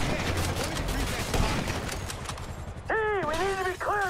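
Rapid gunfire cracks through a firefight in Grand Theft Auto V, close and loud over game noise and shouted voices. Near the end a tonal, siren-like sound rises above the shooting.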